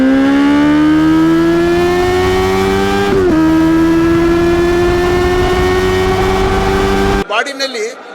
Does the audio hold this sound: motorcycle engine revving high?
yes